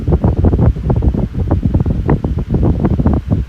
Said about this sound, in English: The motor is brushless. Yes, it does oscillate. We'll get to that in a little bit. For right now, enjoy the wind stream.